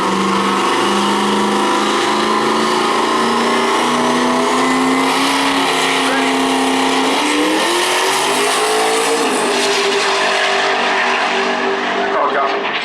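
A 1986 Turbo Mustang drag race car launches at a Maryland International Raceway drag event, its engine a loud, sustained roar that climbs and shifts in pitch over several seconds, with an announcer's voice faintly underneath.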